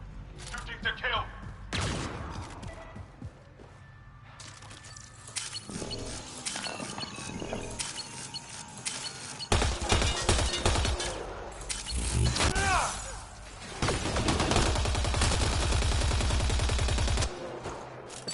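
Gunfire in the Mass Effect Andromeda video game, repeated volleys and sustained rapid bursts of shots with explosions, loud and close, mixed with combat voices.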